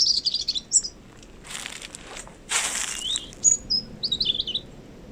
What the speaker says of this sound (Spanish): Pues es nuestro petirrojo, que en invierno se acercaba a nuestras terrazas